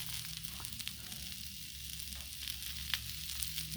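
Cabbage, kielbasa and potatoes frying on a Blackstone griddle, a steady close hiss and sizzle with occasional small crackles and pops, no talking.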